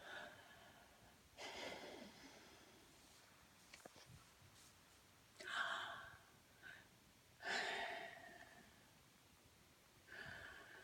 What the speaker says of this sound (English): right, deep breath.